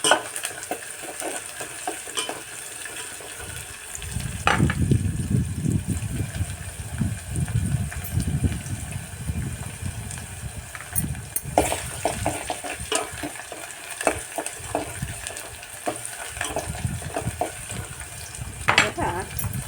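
Chopped garlic fries in hot oil for a red amaranth greens dish, a steady close sizzle broken by repeated scraping and clinking of a spoon stirring the pan.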